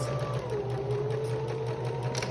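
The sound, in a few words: sewing machine back stitching a zipper pouch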